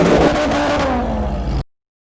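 A car engine roars loudly and close for about a second and a half with a falling pitch, then cuts off abruptly into silence.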